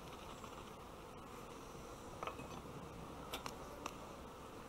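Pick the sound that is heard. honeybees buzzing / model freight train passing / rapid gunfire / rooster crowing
honeybees buzzing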